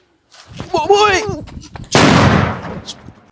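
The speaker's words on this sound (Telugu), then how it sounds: "ఈ నాటు క్రాకరు ఇందులో పెట్టి పేలుద్దాం" A loud, sharp blast from a homemade Diwali firecracker bursts out after a shouted voice, its boom decaying into a long crackling rumble.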